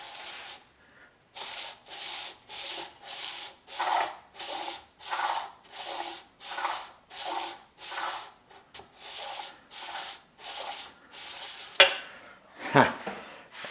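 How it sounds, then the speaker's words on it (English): Sandpaper of 320 grit taped to a machinist's 123 block is rubbed back and forth across a motor crankcase's oil pump mating surface, giving about eighteen steady rasping strokes in an even rhythm, close and moderately loud, with a few clinks near the end. "I have a machinist 123 block with a piece of, I think it's 320 grit sandpaper stuck to it with some double-sided tape."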